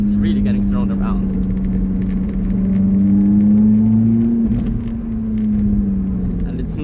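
A lightweight Lotus Elise sports car drives a twisty mountain road. Its engine holds a steady, loud drone that rises and falls gently as the car speeds up and eases off, with faint voice traces over it.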